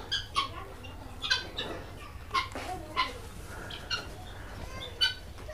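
Japanese quail on a poultry farm give short, repeated chirping calls at roughly one-second intervals, fairly close, over steady farmyard background noise.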